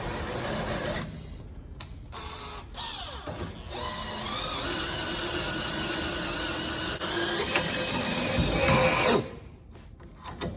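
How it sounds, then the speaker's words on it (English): A power drill works on the rusty sill panel of a VC Valiant car, with short bursts followed by a long, steady, loud whine of about five seconds, then stopping, close by and with no speech. "I found with drills you got to avoid getting them too hot."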